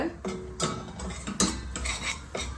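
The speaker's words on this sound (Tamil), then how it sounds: "அடுப்பை லோ ஃப்ளேமில் வச்சுட்டு நல்லா வறுத்துக்கோங்க" Moong dal and wheat flour roast in a pan over low flame for Ashoka halwa, a spoon stirring and scraping in several quick close strokes with faint dry rustling between.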